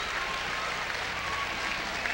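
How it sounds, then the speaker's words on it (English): Fans in a high school gym applaud as girls' basketball players run out one by one before a 1993 Class B regional final, a dense, even roar of clapping filling the whole stretch. "the Houlton kids coming out now, getting their round of applause from the fans"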